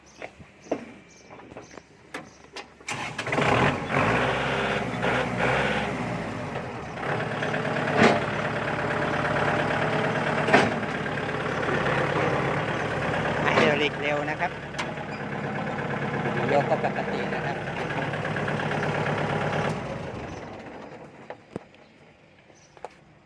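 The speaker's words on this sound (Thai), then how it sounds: "เครื่องดี เกียร์ดีนะครับคันนี้ ฟังเสียงดูนะครับ" A farm tractor's diesel engine idles steadily with a low, chugging rumble, running close by for about twenty seconds before shutting off.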